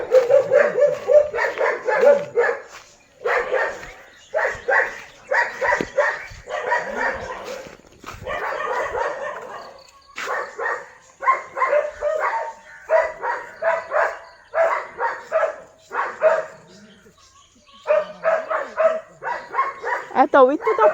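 Dogs bark repeatedly in bursts, with some yips and whimpers, fairly close and loud, and people talk over them throughout.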